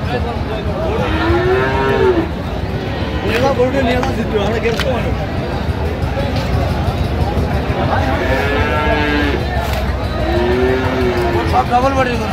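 Shahiwal cattle moo repeatedly, long drawn-out lowing calls from several animals over a steady rumble of engine noise and background chatter.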